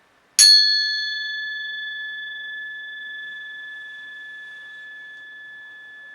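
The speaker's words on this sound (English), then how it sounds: "listen to the sound of the gong" A gong struck once for relaxation: a sharp attack blooms into a clear, sustained ringing tone that hangs for several seconds and only slowly fades, heard alone in an otherwise silent space.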